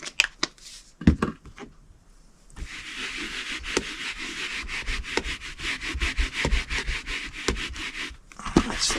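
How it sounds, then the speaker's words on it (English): A rubber stamp is scrubbed back and forth on a Stampin' Scrub pad with cleaning solution, giving close, rhythmic rasping strokes in quick repeated bursts with brief pauses. "I'm going to clean it with my Stampin' Scrub."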